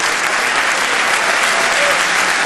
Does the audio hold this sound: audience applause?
yes